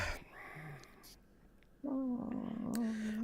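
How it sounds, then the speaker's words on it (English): A house cat gives one drawn-out meow, close and fairly loud, after a second or so of quiet room sound with faint voice-like murmurs. "Yes, Plushie, I'm a good girl. That's right. Meow"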